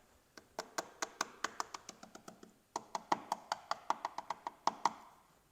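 Sharp, hollow knocks tap out a quick, uneven rhythm on an old fiberglass boat hull, about two dozen raps close by, with no talking.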